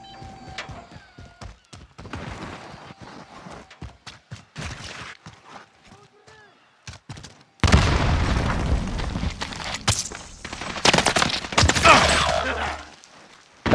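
Sentry gun fire and explosions in Call of Duty: Modern Warfare, a sparse run of sharp shots and thumps that gives way to a loud, dense burst of blasts and gunfire in the second half, with a few voices breaking in.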